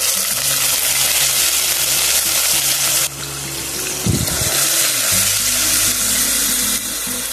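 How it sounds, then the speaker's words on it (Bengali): Onion paste frying in oil left from frying onions, in a Bengali chicken curry: a steady close sizzle with stirring and scraping through the middle, alone without talk. "পেঁয়াজ বাটাটাকে একটু ভালো করে ভেজে নেব।"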